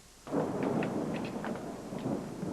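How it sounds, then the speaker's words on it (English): Thunder during a heavy storm: a sudden low rumbling crash that rolls on steadily for a couple of seconds, loud and close, with no talking. "It's one hell of a storm out there, huh?"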